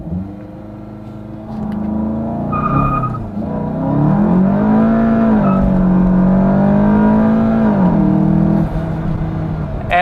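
A VW Mk7 GTI running custom map 6 pulls hard through a 0-60 sprint, its engine note climbing steadily with a shift pause along the way, loud and close from start to finish.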